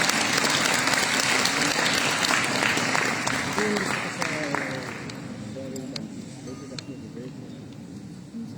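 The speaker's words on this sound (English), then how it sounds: "Please welcome them with a warm round of applause." Audience at the inaugural session of a youth summit breaks into sustained applause, loud at first and then gradually thinning out to scattered claps over several seconds.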